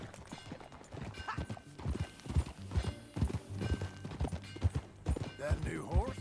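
Horse hoofbeats while riding in the Red Dead Redemption 2 video game, a steady, rhythmic clip-clop at a trotting pace under game dialogue and background voices, moderately close throughout.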